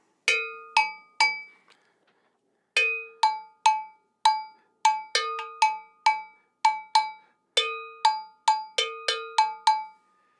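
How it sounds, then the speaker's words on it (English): A metal Ewe bell (gankogui) from Ghana is struck sharply with a stick in a repeating rhythmic pattern, bright dry clanks with a short pause before the pattern resumes. "this bell is mainly used in Ghana, West Africa, in the Ewe drumming traditions"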